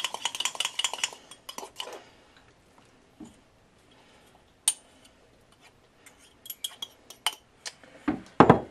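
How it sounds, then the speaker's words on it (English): A whole egg being scrambled into milk, a burst of rapid fork or whisk clinks against a bowl at the start, then scattered taps and knocks with quiet pauses, ending in another quick flurry. "Now, this is like a whole egg, so I'm just gonna scramble it."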